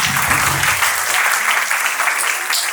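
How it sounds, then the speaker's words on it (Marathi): An audience in a finance talk session claps for themselves, sustained close and loud applause from a full room throughout, with no speech over it. "सगळ्या तुमच्यासाठी टाळ्या स्वतःसाठी वाजवा"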